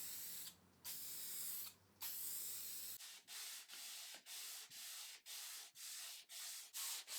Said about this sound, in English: The timber work needed many hours of sanding before giving it a durable clear finish